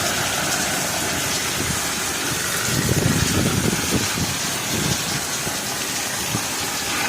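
A boat engine hums steadily during a trip through wind and rain, its low drone blending with a constant wash of rain and splashing water, close and fairly loud, without talk.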